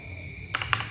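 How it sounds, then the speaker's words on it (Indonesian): Typing on a Gamen Titan Elite mechanical gaming keyboard: a few crisp, clicky keystrokes in quick succession over a steady electronic hum, close and fairly quiet. "Sekarang coba saya gunakan untuk mengetik. Nah, coba keyboard."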